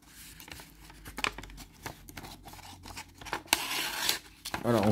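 Victorinox scissors snip through paper in a run of crisp cuts, some quick and some drawn out, close by, with a brief voice near the end.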